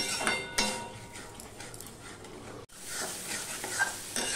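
Masala with gathi kochu (taro) is stirred and fried in a pan, with a soft sizzle under repeated scraping and clinks of a spoon against metal, close and moderately loud.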